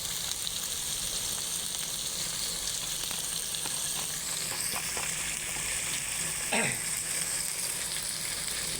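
Chicken pieces fry in plenty of mustard oil in a pan, giving a steady close sizzle with occasional stirring scrapes and one brief louder hiss.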